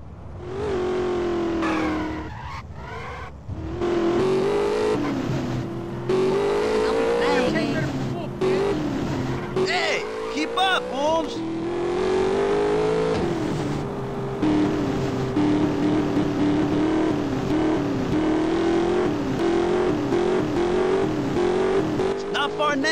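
Cars in GTA San Andreas rev and accelerate in rising engine whines with tire squeals and skids, loud and close throughout, while voices talk over them.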